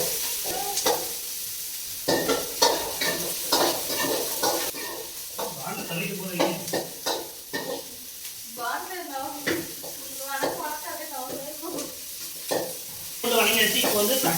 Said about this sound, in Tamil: இப்போ வந்து என்ன பண்ணுவோம்னா எண்ணெய் காஞ்சாச்சு. இப்போ வந்து வெங்காயமும் பூண்டும் போட போகிறோம்.